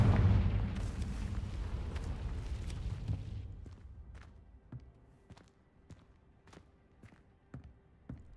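A video game fire spell called Confringo goes off with a loud, close blast that rumbles and fades over about three seconds. Sharp clicks and thuds follow at irregular intervals.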